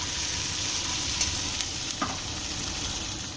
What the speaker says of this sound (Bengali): পেঁয়াজ একেবারে লাল লাল করে ভেজে নেব।